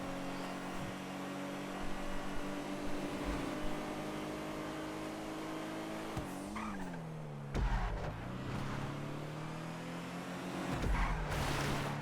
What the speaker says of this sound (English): That was a weird little sound that the tires made on this car.